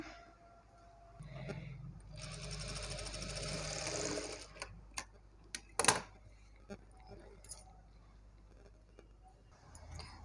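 A sewing machine stitches the middle of a blouse back neck, its steady whirring run building for about three seconds, then stopping, followed by scattered clicks and sharp handling knocks of fabric and machine parts.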